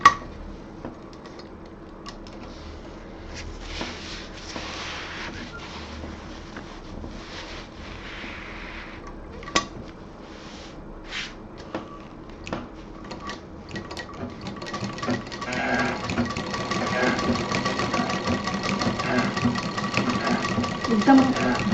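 A sewing machine runs slowly while stitching around the curved edge of a colourful fabric table mat, a steady mechanical whir with faint ticking that grows louder and denser in the final seconds, with no talking over it.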